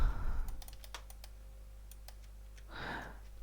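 Light, sparse keystrokes on a computer keyboard, a handful of soft clicks spread across a few seconds over a low steady hum, with a voice briefly at the start and near the end.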